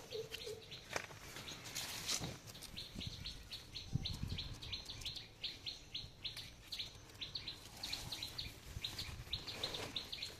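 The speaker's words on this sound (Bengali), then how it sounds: "এই যে এখানে এই গর্তের ভিতরে টুনটুনি পাখির বাচ্চা ডিম পেড়ে বাচ্চা ফুটাইছে।" Baby common tailorbird chicks calling from inside a nest hole, a steady series of thin, high repeated chirps close by, with rustling and handling noise underneath.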